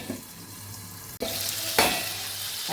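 Tomatoes for chutney cooking in a covered pan give off a continuous sizzle and bubbling hiss, with a few abrupt clanks or bursts of steam breaking the steady sound.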